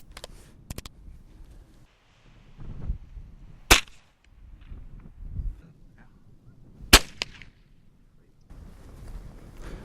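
Sharp .22 rifle shots cracking out while shooting rabbits outdoors, two loud isolated reports several seconds apart with quieter rustling, movement and faint voices between them.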